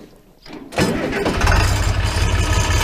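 A Farmall 806 tractor engine cranking and catching after a brief quiet moment, then running with a loud, steady, rumbling idle close by.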